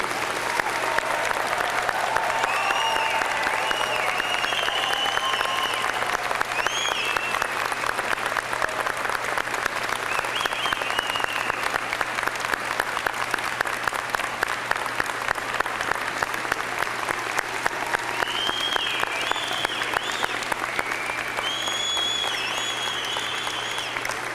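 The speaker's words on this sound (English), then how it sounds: "I ask your friends and family to join me in applauding the graduating class of 2002" Sustained applause from a large audience at a university convocation for the graduating class, steady and dense clapping that continues without pause, with a few scattered voices underneath.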